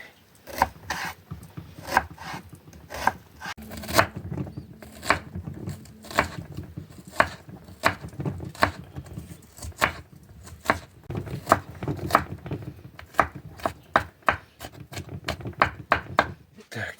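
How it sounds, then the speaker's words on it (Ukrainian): Onion being chopped with a knife on a board, for zucchini patties: a steady run of sharp, close knife strikes, fairly regular with brief pauses, alone without talk. "тепер цибульку поріжемо"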